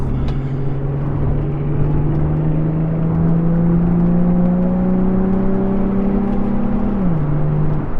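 A Nissan 350Z Cabriolet's engine pulls steadily under acceleration, its droning pitch rising smoothly for several seconds before a brief dip as the gear changes, loud and close over road rumble.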